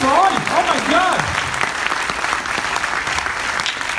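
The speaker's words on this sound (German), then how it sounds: "ja, Applaus für euch." Audience applause in a comedy club during a stand-up show, loud dense clapping throughout, with a voice speaking over the opening second.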